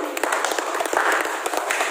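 An audience at a church fundraising event for building a perimeter fence and iron gate claps steadily as dense, continuous applause, moderately loud and close, with a faint voice underneath.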